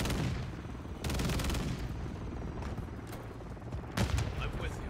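Burst-fire weapon shots in the Modern Warfare 3 shooter game, a dense rattle of rapid gunfire bursts with a louder burst near the end, over constant game noise and faint talk.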